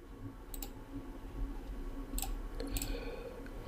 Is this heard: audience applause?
no